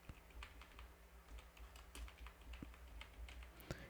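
Quiet, close typing on a computer keyboard while entering data in Tally Prime accounting software. The keystrokes are light, irregular and closely spaced, over low steady room hum, and no one speaks.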